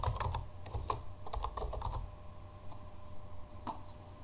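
Typing on a computer keyboard, a quick run of close, crisp key clicks that thins out into a few scattered taps and then one last click.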